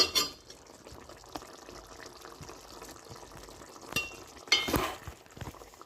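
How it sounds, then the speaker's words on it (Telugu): A pot of chicken curry boils with a faint, steady bubbling, broken by a few sharp clinks and stirring scrapes, and no one speaks. "ఇదిగో చికెన్ అది బాయిల్ అవుతుంది."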